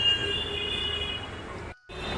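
A Delhi Metro train at a station: a steady, loud rumble with a high whining squeal of wheels, briefly cut to near silence before resuming, with no voices.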